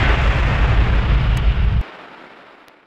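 A torpedo fires from an external tube in a submarine combat game, giving a loud, deep whooshing burst of launch noise that stops abruptly, then a fainter hiss that fades away.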